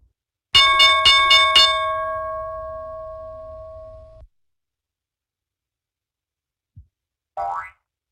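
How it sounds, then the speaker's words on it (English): A bell strikes in a quick burst of four ringing hits, then its bright tone decays slowly for a few seconds before cutting off, followed by a faint tap and a short chirp. "bell."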